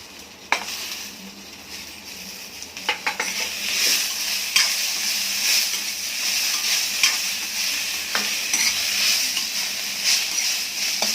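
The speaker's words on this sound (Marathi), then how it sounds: "टोमॅटो जास्त परतून नाही घ्यायचा." Tomato, curry leaves and coriander stems sizzle in hot oil while a utensil stirs and scrapes the pan in repeated strokes, close and fairly loud, no voices.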